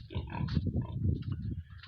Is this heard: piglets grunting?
yes